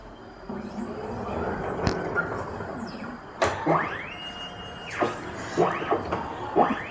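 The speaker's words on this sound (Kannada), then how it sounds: "ತಿರುಗುತ್ತಾ ತಿರುಗ್ತಾ ಇದು ಒಂದೊಂದೇ ಕಲರನ್ನು ಡಿಪ್ ಮಾಡ್ತಾ ಬರುತ್ತೆ" A paint shop colour tinting machine rotates its canister carousel and dispenses colourants, giving mechanical whirs, clicks and repeated rising motor sweeps that come close and clear.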